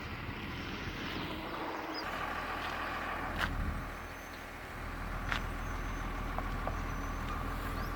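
Heavy construction vehicles, JCB excavators and tractors, work at roadworks near Lingaipalem in Amaravati. A continuous low engine rumble and passing traffic carry on, with a brief dip midway and a few sharp hissing bursts.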